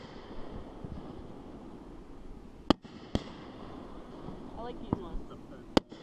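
Small candle fireworks go off nearby, giving four or five sharp pops spaced a second or so apart over a low outdoor rumble, while a person speaks briefly.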